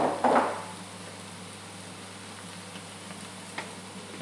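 Eshallot stalks cut into finger-length pieces sizzle steadily in a hot pan, a constant close frying hiss with a brief stirring clatter at the start and no talking.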